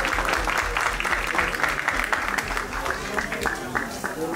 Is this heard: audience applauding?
yes